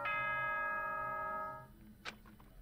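A bright multi-tone ding-dong chime from the Danganronpa: Trigger Happy Havoc video game rings clearly, sustains and fades over about a second and a half, with a brief faint knock afterward.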